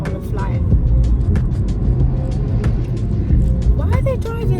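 A car drives on UK roads with a steady, loud, low engine and road rumble throughout, while voices talk over it.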